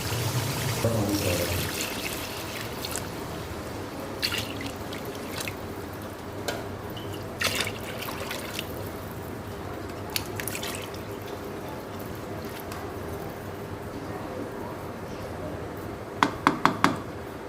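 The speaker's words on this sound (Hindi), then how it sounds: "अब ये वाले 6 गिलास मैं इसमें पानी मिक्स करूँगी" Water from six glasses is poured into a pot of fried chicken for biryani, a soft steady trickle and splash running throughout, with a few sharp clinks near the end.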